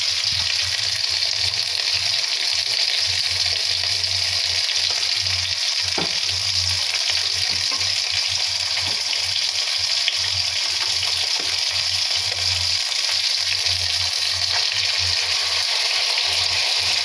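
Ground black and white mustard paste, thinned with water, sizzles in a hot pan for mustard hilsa, a loud steady frying hiss that runs unbroken throughout with a few faint clinks and no talking.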